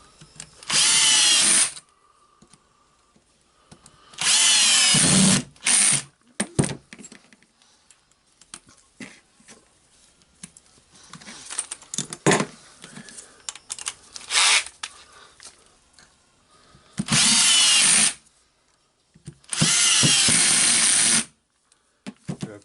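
Four bursts of a cordless power drill whirring in short runs, removing screws from the hammer housing of a Milwaukee HD18HIW impact wrench, separated by quieter clicks and handling noises, close and loud.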